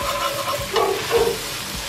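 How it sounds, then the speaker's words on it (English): Onions frying in a pot with spices while being stirred before lamb shanks are added, giving a soft steady sizzle close by with a couple of scraping stir strokes. "Give it a nice stir. Cook it for about 30 seconds."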